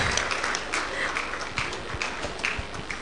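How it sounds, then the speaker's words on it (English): Audience applause at a university distinguished lecture at Akwa Ibom State University: a few seconds of moderately loud, steady clapping from a seated crowd in a hall, without speech over it. "Please, can we give him a round of applause?"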